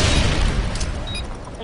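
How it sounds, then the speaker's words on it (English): A stun grenade thrown and detonating in a first-person shooter video game, a loud, dense burst of blast noise and rumble that fills the short moment with no speech over it. "Throwing a stun grenade!"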